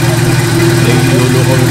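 A rear-mounted Renault PRV six-cylinder engine rumbles at a steady idle, loud and close with an even low hum and faint vibration, while a voice talks over it.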